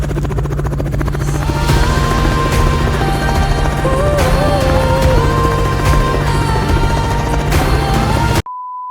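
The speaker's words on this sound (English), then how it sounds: "All right, helicopter sound effect" A loud helicopter drone with steady rotor thumping and a whining engine tone, running continuously before cutting off abruptly into a short electronic beep.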